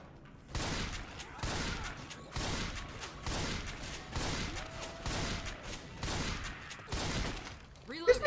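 A pump shotgun in a video game fires about eight evenly spaced, booming blasts, each with a short crunchy tail, with a brief mechanical sound at the end.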